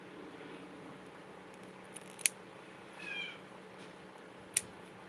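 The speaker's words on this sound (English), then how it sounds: "That's my kitty cat." A pet cat gives a single faint meow in a quiet indoor room where someone is sewing, with a couple of sharp clicks before and after it over low background hum.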